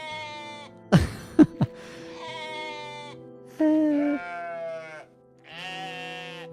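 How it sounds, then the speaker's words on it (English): Synthesized goat bleats from the video game OneShot, a few wavering, nasal calls with short gaps and a couple of sharp clicks between them, heard clearly with no talking. "I don't know what it is about these goat sounds"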